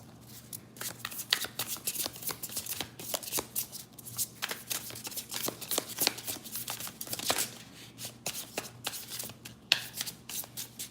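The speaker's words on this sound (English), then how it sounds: "Let's get a tarot card before I skedaddle." Tarot cards shuffled by hand, close up: a run of quick riffling and rubbing bursts with short pauses between them, alone over a faint low hum.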